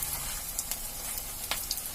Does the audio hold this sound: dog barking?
no